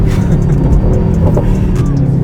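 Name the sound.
tuned Mercedes-AMG GT 63 S 4-door V8 accelerating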